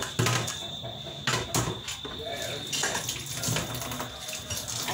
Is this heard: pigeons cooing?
no